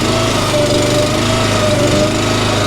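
Split Force firewood processor running nearby, its hydraulic system driving the wheels under a loud, steady engine drone with a constant whine, without speech.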